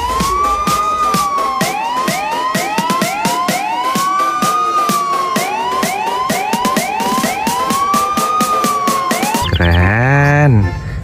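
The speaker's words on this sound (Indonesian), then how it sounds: "Ada mobil pemadam kebakaran teman-teman" Fire truck siren wailing loud and close in repeated rising and falling sweeps, ending with a shift to a faster yelping pattern.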